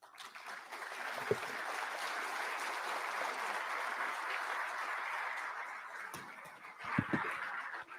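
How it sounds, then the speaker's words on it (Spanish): An audience applauds Sister Rosemary after her talk, a soft, steady wash of distant clapping that runs evenly throughout, with a couple of louder knocks near the end. "Agradecemos una vez más con un fuerte aplauso la brillante y apasionada exposición de la hermana Rosemary"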